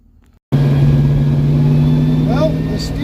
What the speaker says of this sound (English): Finally, test drive time.